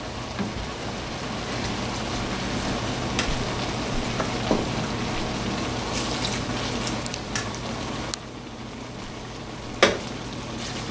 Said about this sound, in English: you're going to ladle in your last few scoops of broth